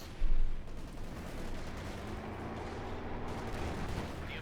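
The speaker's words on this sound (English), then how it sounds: "Mortar firing down." A mortar fires in Company of Heroes 2, one heavy booming launch near the start followed by a long rumbling tail of distant battle noise and scattered gunfire.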